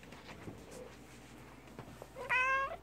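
A cat lets out a single clear, tonal meow near the end, loud and close against a quiet indoor room with faint background noise.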